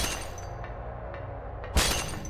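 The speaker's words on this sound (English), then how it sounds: "Just the sound of smashing glass." Glass smashes in the horror video game Silent Hill: one sudden loud shattering crash breaks out after several faint ticking knocks over a low, dark ambient drone.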